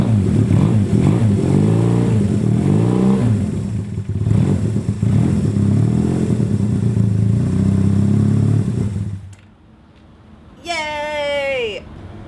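A Honda CB200 motorcycle engine after a tuneup starts and runs with a loud, steady idle and some revving for about nine seconds, then cuts out; a high cheering voice follows.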